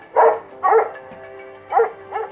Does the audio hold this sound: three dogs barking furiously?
yes